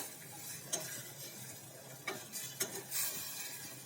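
A sizzling tempering for a juicy cucumber curry with jaggery, turmeric and coriander-cumin powder, soft steady frying hiss broken by a few sharp stirring clinks and scrapes of a spoon in the pan.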